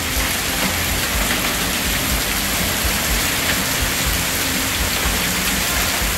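Small, roughly dime-sized hail falling in a thunderstorm during a tornado watch, a dense, steady roar of pelting hitting surfaces, loud and continuous with no voices.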